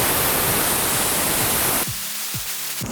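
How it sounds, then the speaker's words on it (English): A loud, steady hiss of aerosol glue sprayed onto a shelf runs for nearly two seconds, then cuts off, followed by a couple of faint clicks and a brief final burst. "First, I'm going to spray the shelf."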